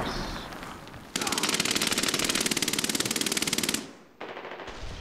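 Rapid automatic gunfire from the video game Medal of Honor Warfighter, one loud sustained burst of evenly spaced shots lasting nearly three seconds, then a pause and a shorter burst starting.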